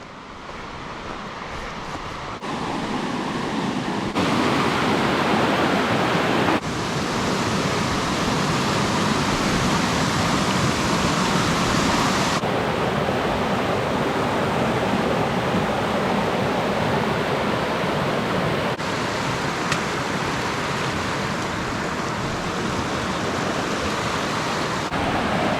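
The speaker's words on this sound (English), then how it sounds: "Look at the Jordan River." Steady broadband rushing of the Jordan River in Israel, continuous and fairly loud, with no voices, shifting slightly in tone over time.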